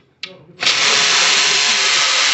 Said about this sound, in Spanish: enseguida vamos a quitar los tornillos que están agarrando el intake en la parte de aquí arriba